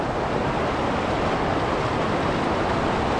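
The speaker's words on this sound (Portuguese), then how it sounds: "Olha a cachoeira." A waterfall pours steadily beside a stream where lambari fish are being caught, a continuous broadband rush of falling water, close and loud, with no voices over it.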